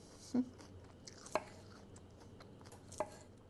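A few crisp crunching bites into a fresh, prickly-skinned garden cucumber, three sharp snaps spaced apart against a quiet outdoor background.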